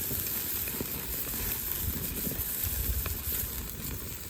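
Branding iron pressed onto a tomahawk steak on a Weber 26 Santa Maria grill, giving a steady, close hiss of sizzling across the whole stretch with no speech over it.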